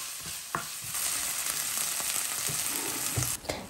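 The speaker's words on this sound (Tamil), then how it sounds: "வெங்காயம் தக்காளி எல்லாம் நல்லா கலவட்டு லைட்டாக வதங்கி வரப்போக்களே நான் வந்து கருவேப்பிலை சேர்த்திக்கிறேன்" Onion, tomato and curry leaves sauté in a pan, making a constant close sizzle with repeated spoon scrapes and knocks against the pan at irregular moments.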